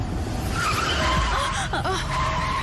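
A car's tires squeal in a short skid as it swerves across the road to block it, a brief screech over low road and engine noise, with no speech.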